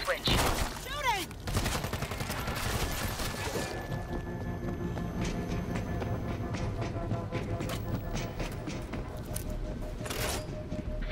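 Gunfire from the zombie shooter World War Z in a New York tunnel, dense bursts of shots over a busy mix of game effects and music, with shots clustering in the opening seconds and again near the end.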